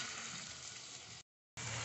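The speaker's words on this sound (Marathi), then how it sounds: "कांदा आपल्याला ब्राऊन रंगावर तळायचा आहे." Finely chopped onions frying in hot oil, a dense, steady sizzle that cuts out for a moment and then returns.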